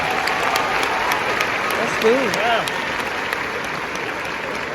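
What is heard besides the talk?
audience applause at graduation ceremony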